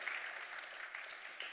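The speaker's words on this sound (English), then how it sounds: "Round of applause." A conference audience gives a short round of applause, a soft patter of clapping heard from a distance for a brief moment.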